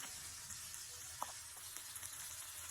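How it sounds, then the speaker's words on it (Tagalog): Chicken breast sautés in a miniature clay pot, giving a steady, soft, even sizzle with a few faint clicks and taps. No one speaks. "nagsaute lang ako ng chicken"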